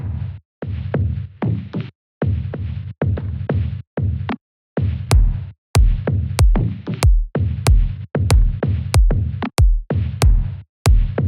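Cut-up drum loop rebuilt from an original loop, chopped stuttering beats with gaps at first, then a tighter driving pattern of deep kicks and sharp crisp hits, loud and up front.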